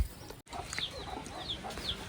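Soft, scattered clucking from chickens nearby in a forest tribal village, a few short calls spread across a quiet background.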